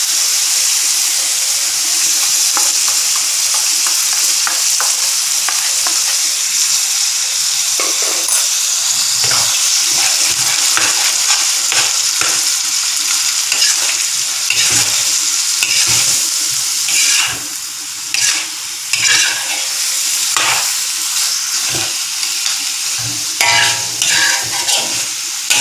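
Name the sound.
mutton being stirred and fried with roasted ground spices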